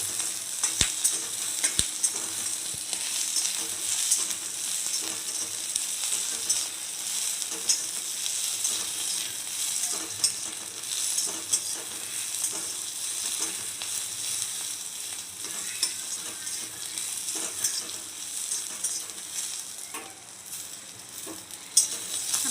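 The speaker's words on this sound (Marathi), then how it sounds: "मिरची छानपैकी आता भाजून झालेले आहेत" Green chillies roast and sizzle in a pan for chicken thecha, a steady broadband fry crackle with scattered pops and occasional stirring scrapes, close and continuous throughout.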